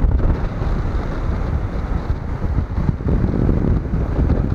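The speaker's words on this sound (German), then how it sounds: "Hier oben ein bisschen Wind, Sie hören es." Steady wind buffets the microphone on the sand dunes between Playa del Inglés and Maspalomas, a loud, continuous low rumble with gusty swells and no voices.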